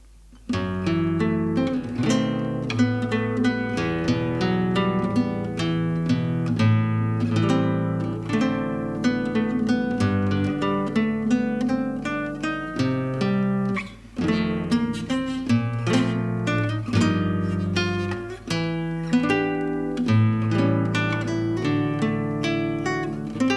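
Solo guitar performing the first section of a jazz ballad, dense chord voicings and melody lines played continuously and clearly, with a brief dip near the middle.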